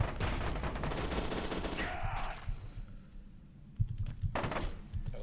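Dense rapid gunfire fills the opening seconds of F.E.A.R. 2 Project Origin, a loud continuous burst that cuts off, followed by scattered thuds and a sharp impact, with faint talk underneath.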